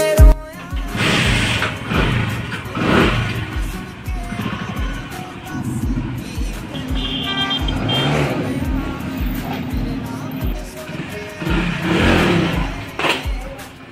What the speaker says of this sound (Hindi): चलो फटाफट से रैंप पे से बाइक उतारते हैं और फिर इसकी लेते हैं भाई टेस्ट ड्राइव